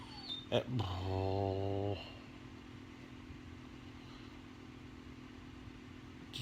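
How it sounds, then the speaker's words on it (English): A dog gives a sharp bark and then a long, rising whine-growl at close range, and the sound dies away into steady low background noise with no talking. "Dogs, crazy."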